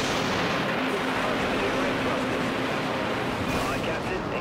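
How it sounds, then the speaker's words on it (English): A stasis warhead fires from a catapult weapon in the space combat game Dreadnought, heard as a loud, sustained roaring blast with dense rumbling noise, and voices seem to be present beneath it. "Launching stasis warhead."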